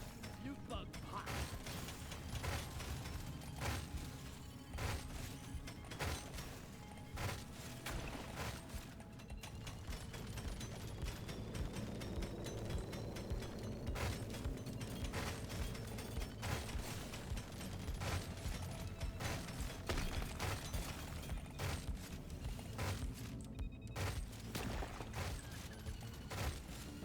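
Rifle gunfire from Deep Rock Galactic: Survivor, a dense stream of closely spaced shots over busy game noise and music, with speech throughout.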